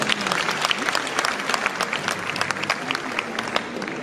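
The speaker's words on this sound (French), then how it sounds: "Je vous demande sincèrement de l'applaudir très très fort." Applause from the audience at a ceremony of the international book fair in Abidjan, a continuous crackle of many hands clapping at moderate distance, fairly even in level.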